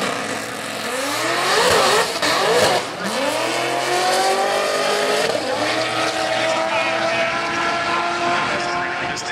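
A Tesla launching off the line at a drag strip in dense air gives a loud, close electric motor whine that sweeps steadily upward in pitch over a broad rushing roar.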